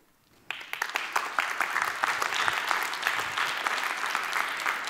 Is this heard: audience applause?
yes